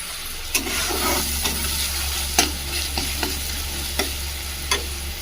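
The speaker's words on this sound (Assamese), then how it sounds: "এইখিনি অকণমান ভাজি ল'ম" Mango chutney frying in a pan with mustard, a steady close sizzle broken by regular scraping strokes of a spoon stirring, several distinct knocks against the pan, no voices.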